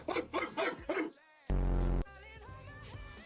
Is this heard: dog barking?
yes